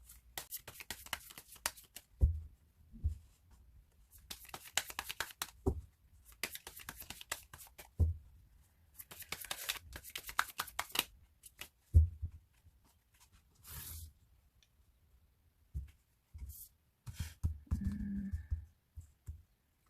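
Tarot cards are shuffled in close, crisp riffling bursts separated by quiet pauses. Softer taps and slides follow as the cards are laid out on a surface.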